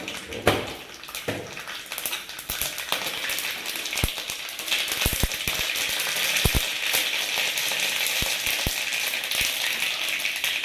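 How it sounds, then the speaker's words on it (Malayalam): Mustard seeds tossed into hot coconut oil left from frying chickpeas crackle and pop in sharp, irregular bursts over a constant sizzle, close and moderately loud, with no voices. "കടല വറുത്തെടുത്ത വെളിച്ചെണ്ണയിലേക്ക് നമുക്ക് ഒരു ടീസ്പൂൺ കടുക് ഇട്ട് കൊടുക്കാം"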